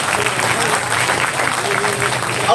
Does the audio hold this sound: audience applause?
yes